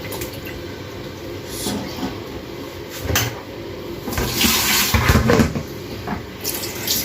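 Running water from a tap rinses raw meat in a sink, a steady close splashing stream with some louder surges near the end.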